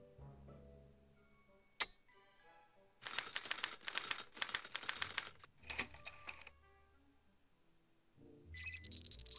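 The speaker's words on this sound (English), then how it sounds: "What's this typewriter do again?" Mechanical typewriter in the Back to the Future video game, a sharp click followed by a fast run of dense clacking keystrokes, then further short bursts of typing and machine whirring, quiet overall.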